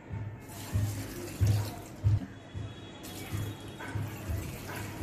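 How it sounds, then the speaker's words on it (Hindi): Two glasses of water are poured into a pot of mutton with tomatoes, spices, onion, garlic and ginger, making a sloshing splash in several uneven surges over a few seconds. "2 गिलास पानी डाल देंगे"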